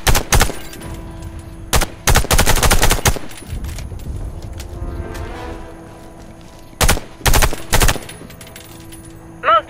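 Gunfire from a weapon shot at targets in Warface, a series of loud, close single shots and short rapid bursts separated by quiet gaps, with a metallic rattle near the end.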